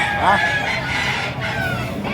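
Gamecocks at a cockfighting market in Lipa, Batangas crow and cluck close by, a loud rooster call rising early amid a busy din of other birds and faint voices in the background.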